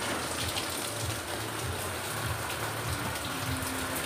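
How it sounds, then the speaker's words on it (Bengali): Steady rain falls in a continuous soft hiss with scattered patter of drops, fairly quiet and close, with no voices over it. "আর এখন বৃষ্টিটা শুরু হলো"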